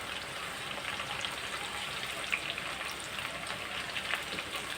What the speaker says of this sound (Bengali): এটি আমি এখন লাল লাল করে ভাজবো